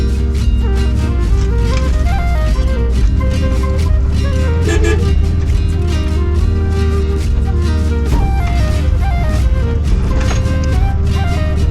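A GoWesty vehicle running the NORRA Mexican 1000 off-road rally, its engine droning loud and steady from inside the cab, with rising harmonic tones as it accelerates and a faint voice underneath.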